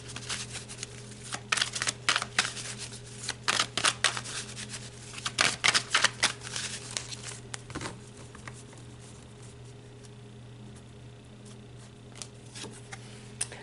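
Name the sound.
shuffling and pulling tarot cards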